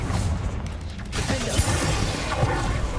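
A Confringo blasting spell going off in Hogwarts Legacy, a booming explosion with crashing, shattering debris and a rumbling tail that lingers for a few seconds, close and fairly loud.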